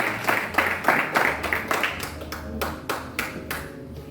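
A church congregation claps together in a quick, fairly even rhythm, roughly a dozen sharp claps that ease off toward the end.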